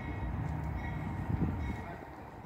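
CSX freight train locomotives pass at Plant City as a steady, low rumble with a faint engine drone, heard from a moderate distance with no voices over it.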